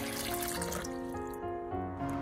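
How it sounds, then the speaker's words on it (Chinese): Clean water pours steadily over onions in a bowl, a soft, continuous trickle and splash heard up close at low volume. "然后重新加入适量的清水"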